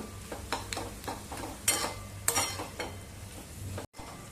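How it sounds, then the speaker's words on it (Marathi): Diced cooked potato bhaji is tossed and stirred in a pan over medium heat, a faint scraping and light sizzling with repeated spoon strokes at an uneven rhythm. "आता 2-3 मिनिटं गॅस मध्यम करून सगळी बटाट्याची भाजी चांगली परतवून घ्यायची"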